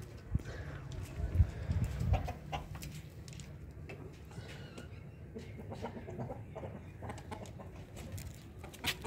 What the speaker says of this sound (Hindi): अभी मुर्गियों ने शोर डाला हुआ है